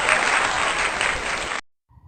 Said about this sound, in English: give the applause for the speaker and for you all